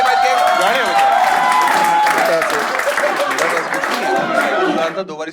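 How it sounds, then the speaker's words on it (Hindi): Audience clapping and cheering loudly in a dense, continuous burst that fades near the end, with voices mixed in. "तालियां बजाओ"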